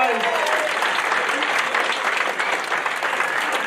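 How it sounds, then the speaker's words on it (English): Sustained audience applause at a football club's player of the season awards night, continuous clapping with voices audible over it at the start. "Big round of applause, please, guys."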